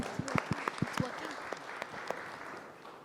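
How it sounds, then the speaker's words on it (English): An audience at an HP Omen 2017 launch event claps in scattered, uneven bursts that thin out toward the end, with a voice speaking over the applause. "One big round of applause, guys."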